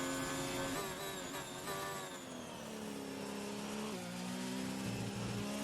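A Formula 1 car at the British Grand Prix in F1 2019, its engine screaming loud and close with rising and falling pitch as it shifts gears and accelerates, alone without talking.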